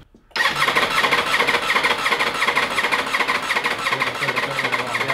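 A Ducati Desmosedici RR motorcycle engine, powered from a booster pack, cranks over with a loud, rapid, rhythmic churning that begins abruptly and continues steadily for about five seconds, close up.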